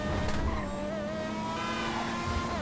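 An open-wheel race car in GTA V runs from police in a one-star chase. Its engine gives a continuous high whine with shifting revs and a brief tire squeal, heard alone without talk.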